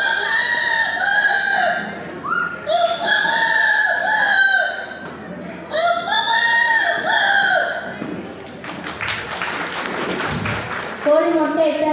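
At a school talent show, a person imitates a rooster's morning crow several times in a row, long rising calls, then shifts to clucking imitations with audience noise and applause underneath.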